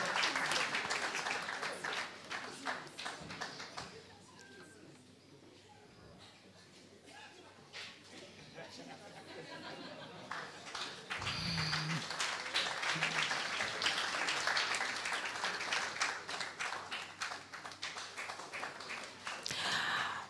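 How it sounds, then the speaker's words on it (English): At a youth orchestra graduation, the audience applauds flute player Stephen Kamau with moderate, somewhat distant clapping that dips midway and picks up again, with voices in the room. "Round of applause, please, for Stephen, who plays the flute."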